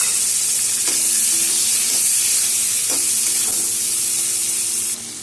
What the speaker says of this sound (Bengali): পেঁয়াজ টমেটো আমার সব ভাজা হয়ে গেছে